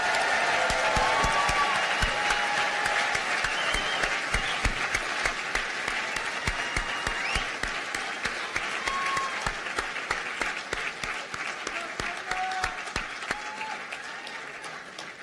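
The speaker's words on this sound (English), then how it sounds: "let's give our future physicians a rounding round of applause" A large audience at a medical school white coat ceremony applauds loudly and steadily for the future physicians. Dense clapping fills the hall and keeps going throughout, easing slightly toward the end.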